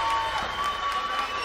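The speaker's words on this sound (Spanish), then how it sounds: "¿Y por qué no nos dan un aplauso entonces?" Brief burst of crowd applause at a live radio show, a continuous wash of clapping with faint cheering mixed in, fairly even throughout.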